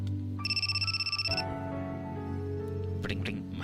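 A phone rings in a mecha strategy video game, a steady pulsing electronic ring with a sustained tone, close and clear over background game music, then cut off as the music shifts.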